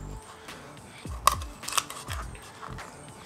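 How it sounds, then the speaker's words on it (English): A knife works along the rib cage of a raw chicken being spatchcocked, giving a few crisp, close snipping and cracking ticks over a quiet background, with no talking. "So you can take your knife and run it down the rib cage here until you hit the ribs"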